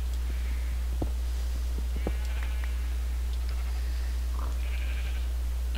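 Sheep bleat faintly in a pen in a Minecraft-style survival game, heard from underground in a cave below it, several soft scattered calls over a steady low hum and occasional clicks.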